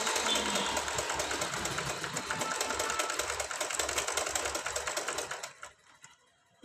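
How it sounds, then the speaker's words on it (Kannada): A sewing machine winds thread onto its bobbin with a steady, close, rapid mechanical whirr that runs for over five seconds and then stops abruptly. "ನೋಡಿ ಫ್ರೆಂಡ್ಸ್, ಈಗ ದಾರ ಸುತ್ತಾ ಇದೆ."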